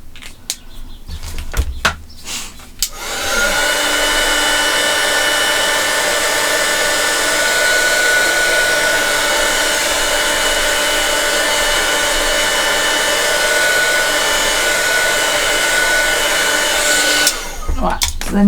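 A hair dryer blows steadily and loudly on a piece of mixed media artwork, a continuous whirring rush that runs for about fifteen seconds after a few handling knocks at the start.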